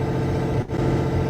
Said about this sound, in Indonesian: ini bunyi mesin diesel.